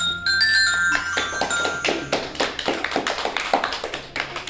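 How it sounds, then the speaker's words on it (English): A group of children in a classroom quiz gives a short burst of scattered applause, irregular close hand claps building over a few seconds with no one speaking. "Give a round of applause."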